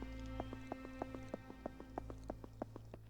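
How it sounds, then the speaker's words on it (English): Footsteps in the horror game SCP: Secret Files, an even, regular walking rhythm of about ten crisp steps, close and clear over a low steady hum. "now we hear other people's footsteps in sync with mine again"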